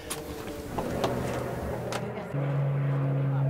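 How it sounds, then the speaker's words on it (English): A small propeller spotter plane for firefighting drones overhead as a steady hum under outdoor ambience, with faint knocks and rustles around it. "That's the spotter plane"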